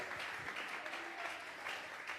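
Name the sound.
congregation applause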